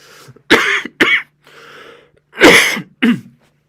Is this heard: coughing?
yes